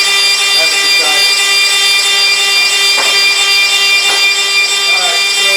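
A lathe takes a taper pass along a pool cue, giving a steady, loud, broadband cutting hiss with a constant whine running through it and a few brief scraping accents.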